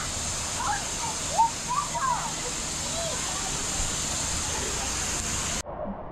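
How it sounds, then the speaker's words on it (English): Waterfall at the Discovery Cove lazy river, a steady rushing hiss of falling water throughout, with a person speaking over it before the sound cuts off near the end. "some beautiful waterfalls over here."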